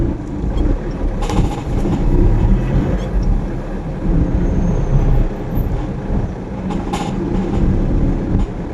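Light rail (LRT) train at Bambang station on Taft Avenue in Manila, a steady heavy rumble with a few brief metallic squeals, continuous and fairly loud, with no talking.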